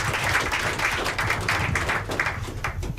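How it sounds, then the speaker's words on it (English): Steady audience clapping in a talk-radio studio during a public help-desk programme; a continuous, moderately loud patter of many hands lasting several seconds without letting up, with no voices over it. "Make una clap for them now."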